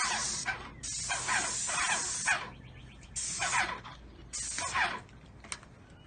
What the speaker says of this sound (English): We are spraying more cabinets.